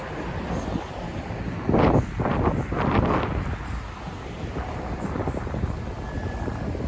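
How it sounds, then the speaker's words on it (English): Heavy wind on a freezing night in Manhattan buffets the microphone with a constant low roar, swelling into louder gusts, with no other sounds standing out. "it is an extremely windy and freezing night here in Manhattan"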